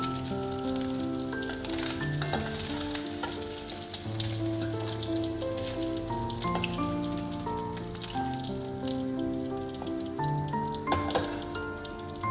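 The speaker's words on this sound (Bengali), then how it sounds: "ভেজে তুলে নেবো এবারে মাছগুলো ভাজা হয়ে গেছে" Steady, crackling sizzle of small mourola fish frying in hot oil, continuous throughout, with soft background music.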